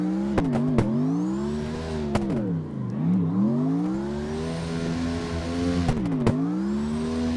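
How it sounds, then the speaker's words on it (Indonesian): A truck engine revs hard through drifts on the Hakone Nagao mountain pass, its pitch rising and falling in long sweeping bends, with sharp bursts where the throttle snaps and a steady loud drone between. "Fokus ngedrift gini."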